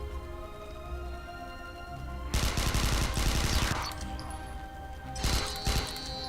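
Taser rounds fired in a video game, a burst of rapid crackling shots followed by a second shorter burst, loud over a faint humming background.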